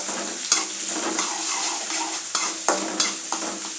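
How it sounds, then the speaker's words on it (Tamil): Onions sizzle and fry in hot oil in a pan while being stirred, a steady crackling hiss broken by several sharp scrapes and knocks of the spoon, close and fairly loud with no voices. "வெங்காயம் சேர்த்து நல்லா வதக்கிடலாம்."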